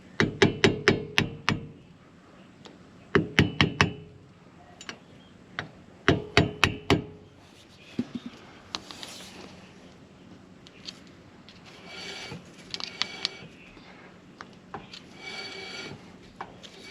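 A small flat-blade screwdriver works around a caravan wheel hub's bearing dust cap, giving close, sharp metallic clicks and scrapes in quick clusters with pauses between, then quieter fiddling noises toward the end.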